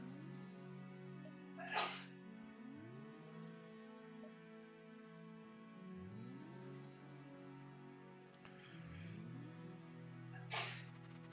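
A person sneezes twice in the background, short sharp bursts several seconds apart, set against steady game music playing throughout.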